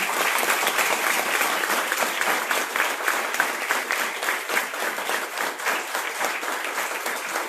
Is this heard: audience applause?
yes